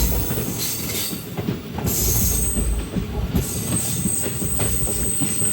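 The Nagaland Express pulls into Sivasagar railway station on a curve: a loud, steady rumble of rolling wagons with high metallic wheel squeal rising and fading throughout, no voices.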